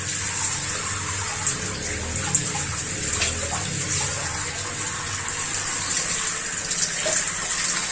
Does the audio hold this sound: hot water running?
yes